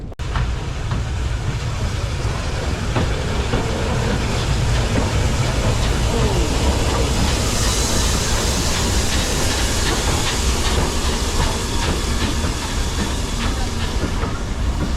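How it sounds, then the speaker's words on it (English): Steam locomotive 75069 pulls into a station platform at a heritage railway steam gala, with a loud, continuous hiss of steam and rolling rail clatter held steady throughout, close by. "Just arriving in there on platform 2 is a really smart locomotive, 75069"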